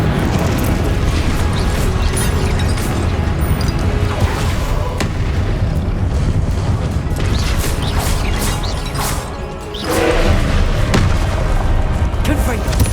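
An Incendio fire spell cast in the Hogwarts Legacy video game gives dense, booming, roaring blasts that sustain loudly throughout, with a brief dip near the end before the rumbling resumes, amid busy combat noise.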